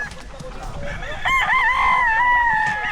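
A rooster crows once, fairly close and clear, over a background of clucking chickens and faint voices at a farm storehouse in Pila, Laguna.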